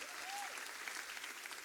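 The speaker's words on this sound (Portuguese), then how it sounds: "eu vou convidar todos vocês para darem uma salva de palmas para esses irmãos que estão lá" A church congregation gives a round of applause, dense even clapping from many hands that holds steady and fairly distant, with a faint tonal whistle early on.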